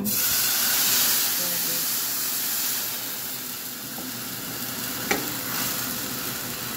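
Garlic frying in a pan until browned gives off a dense, even sizzle and hiss up close, easing slightly in loudness, with one sharp tap near the end.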